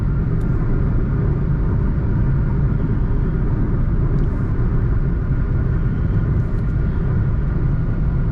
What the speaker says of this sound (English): Let's check what 110 is like. Now the wind noise of course has increased.